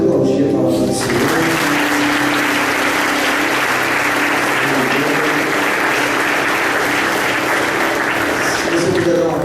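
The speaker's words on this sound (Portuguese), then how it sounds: "Você pode aplaudir a palavra do Senhor." A church congregation bursts into applause during a Sunday celebration service, with a brief voice speaking at the start before loud, continuous clapping fills the room.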